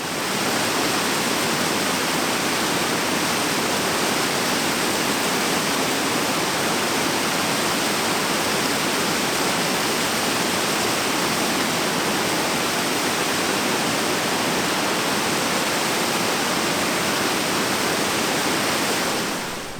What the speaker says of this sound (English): let's go check out the little waterfall here